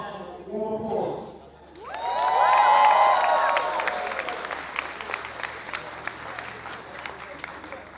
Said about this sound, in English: Let's welcome them with all your love and warm applause.